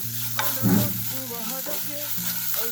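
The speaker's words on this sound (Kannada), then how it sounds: "ಅದನ್ನು ಎಣ್ಣೆನಲ್ಲೇ ಬಾಡಿಸ್ಕೊಂಡ್ಬಿಡ್ತೀವಿ" Ground coconut with green chili and ginger sautés in oil, giving a steady close sizzle with a brief louder stirring scrape, under a persistent low hum.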